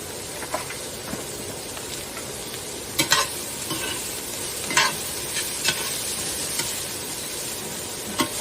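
Onions cook in a hot pan with a constant loud sizzle and crackle, and a spatula scrapes and taps the pan several times at uneven intervals. The sound is close, with no voices.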